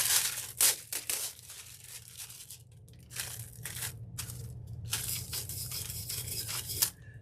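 Aluminium foil rubbed and pressed onto cups, close crinkling and scrubbing strokes in irregular bursts, some sharp crackles early on, then a steady run of scratchy rubbing and crumpling with a faint low hum beneath.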